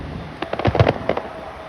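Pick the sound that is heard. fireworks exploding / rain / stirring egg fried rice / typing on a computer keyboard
fireworks exploding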